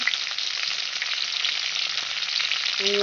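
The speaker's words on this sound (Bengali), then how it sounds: "আমার সবজি প্রায় কষানো হয়ে গেছে আমি একা করে সব মশলা এখন দিয়ে দেবো দিয়ে দিলাম কাঁচা লঙ্কা" Vegetables fry in a pan with spices and green chilies, making a dense, even sizzle throughout, close and moderately loud, with a brief tonal beep at the very end.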